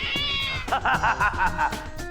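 Cartoon cat meowing in a series of short, rhythmic mews, fairly loud and close over light background music, with no talking.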